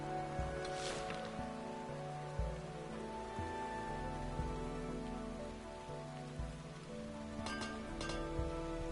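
Rain falls in a vineyard as a steady patter on surfaces, with low rumbling tones underneath and a few brief sharper bursts, and no talking.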